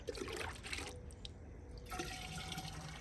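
Rainwater poured into a container to mix a foliar spray for plants, a continuous close trickle and splash that eases off briefly midway before resuming.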